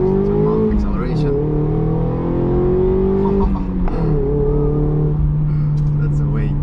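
A Mazda MX-5 ND sports car accelerates hard, its engine note climbing steadily through the gears with brief dips at the shifts, loud and close from inside the car.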